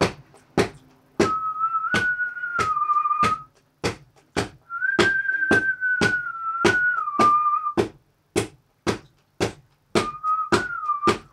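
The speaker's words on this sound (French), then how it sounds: "le travail sur le sifflement n'est pas plus facile" A person whistles a simple sustained melody over a steady rhythm of sharp percussive taps, like hands beating on cardboard.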